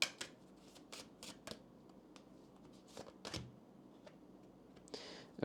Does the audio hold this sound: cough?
no